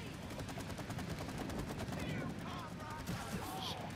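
Rapid gunfire in the video game It Takes Two, dense repeated bursts with a steady rattling rhythm, faint and continuous under game sounds with a voice briefly present.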